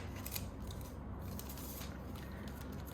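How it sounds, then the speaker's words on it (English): White opaque foil sheet being cut on a Spellbinders foil trimmer, a short steady crinkly slicing rustle close up, heard alone over a constant background hiss. "what I'm just going to do now is cut some white foil"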